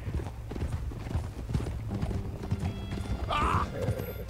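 Horse hooves clip-clopping steadily in the video game Red Dead Redemption 2, close and rhythmic, with a brief neigh near the end.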